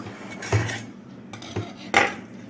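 A metal knife scrapes and taps around the rim of a metal sponge cake tin in a few short strokes, close and fairly quiet.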